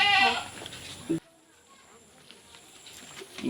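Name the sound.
goat bleating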